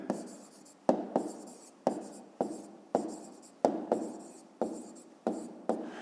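Pen strokes on paper as a maths solution for a fifth-grade exercise is written out by hand, a steady series of scratchy strokes with sharp taps marking each new mark, close and fairly quiet.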